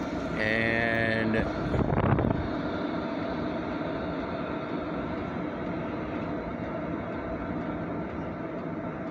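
An Hcalory 8k all-in-one diesel heater runs with a steady broadband roar. A brief tonal beeping sequence comes early, followed by a short surge and a return to the even running hum.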